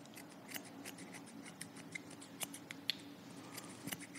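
A razor blade cuts and textures short hair with light, rapid scraping and rubbing strokes, close and soft, repeating steadily with occasional sharper ticks and no talking.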